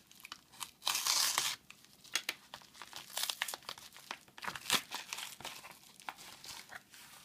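Crinkly plastic packaging holding a set of car lock picks is torn and crumpled open in a quick series of close, sharp rustles and crackles, with brief bursts of louder tearing.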